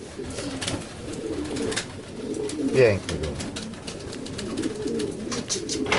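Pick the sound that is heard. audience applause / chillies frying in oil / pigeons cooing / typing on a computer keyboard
pigeons cooing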